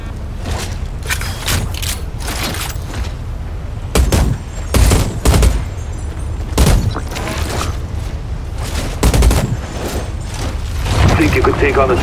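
A newly acquired weapon fires in the video game Outriders: heavy rapid bursts crack out in several volleys over a droning game soundtrack, with voices talking in between.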